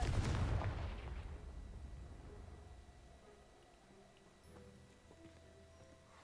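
A Confringo blasting spell is cast in the Hogwarts Legacy video game, opening with a sharp explosive burst that decays into a fading rumble, followed by faint game ambience.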